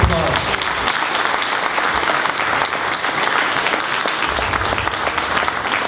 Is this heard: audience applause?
yes